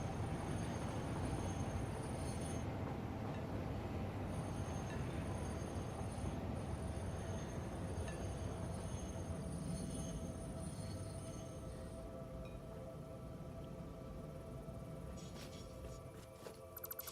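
A continuous video game train sound, a rail rumble with a faint high squeal running steadily throughout as the train rolls along without pause, and no voices are heard.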